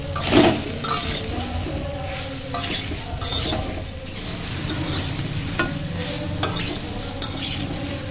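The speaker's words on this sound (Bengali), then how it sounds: "এরপর খুব ভালো করে নেড়ে নিচ্ছি যাতে হলুদ আর নুন ভালো করে আমগুলোর সঙ্গে মিশে যায়।" Mango pieces stirred with turmeric and salt for pickle, a steady scraping and mixing with soft clinks of utensil against the pot, close and moderately loud with no voices.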